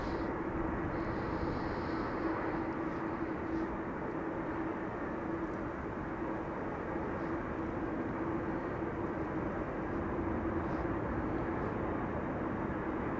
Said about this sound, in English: this is an E2 Embraer 195 on the right coming in from Brussels